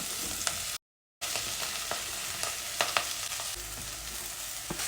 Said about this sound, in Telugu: ఇవి బాగా కలుపుకొని మంచిగా నెయ్యిలో మంచిగా కలుపుకోవాలి